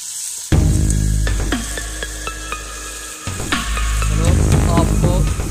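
Chicken pieces frying in a hot pan for Shinwari karahi, a loud continuous sizzle with clanks and scraping of the utensil against the pan, heard up close.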